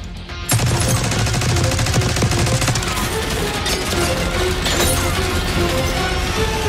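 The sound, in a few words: minigun firing in video game Call of Duty Black Ops 6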